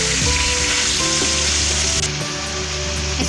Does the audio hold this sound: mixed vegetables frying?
yes